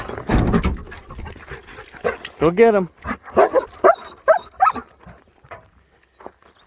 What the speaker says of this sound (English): Where's my Squatch tracking dog?